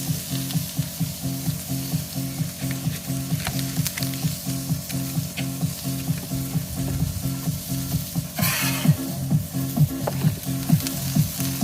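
Ground chicken burger patties fry in a pan with a continuous close sizzle, overlaid by a regular rhythmic scraping and tapping from stirring or pressing. No one talks.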